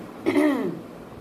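A single close throat clearing, raspy and brief, from someone whose throat is irritated after cleaning ice out of a fridge, followed by quiet.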